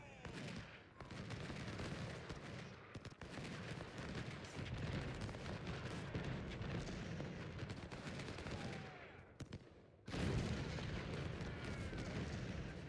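Dense battle din from Ultimate General: Civil War, with cannon and rifle fire crackling and booming in a continuous loud barrage, punctuated by brief cuts where the noise drops out before resuming just as intense.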